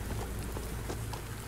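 Steady rain falls in an anomaly video game, a dense continuous patter on surfaces with no voices.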